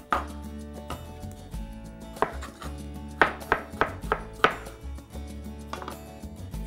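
Knife slicing fresh strawberries on a cutting board, a series of sharp close taps in an uneven rhythm with quieter soft cuts between them.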